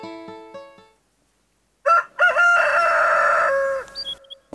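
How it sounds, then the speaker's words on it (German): A rooster in the farming game Stardew Valley crows once in the morning, a loud, drawn-out cock-a-doodle-doo standing alone after a short musical jingle and a pause. "Oh, der Hahn kräht früh morgens,"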